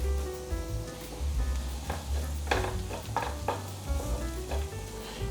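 Chopped onion and ginger frying in hot oil over a low flame, a continuous soft sizzle with several sharper stirring scrapes, while a low hum runs underneath.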